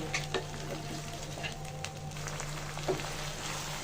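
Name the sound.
frying raw spice paste in oil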